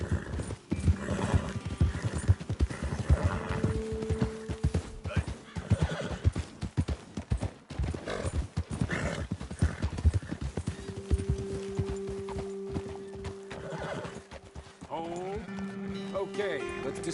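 Horses in Red Dead Redemption 2 clip-clop steadily along a trail while one whinnies and neighs, the hoofbeats close and continuous beneath talking voices and a game music score.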